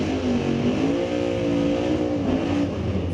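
BC Super Shifters class race cars at Mission Raceway Park, loud engines revving and droning steadily nearby with rising and falling pitch through the whole stretch.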